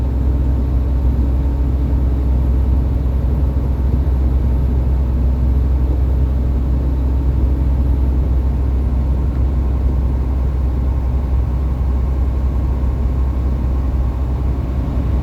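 A truck's engine rumbles steadily while driving north on U.S. 231 out of Lebanon, Tennessee, a loud, continuous low drone with road noise and no talking throughout.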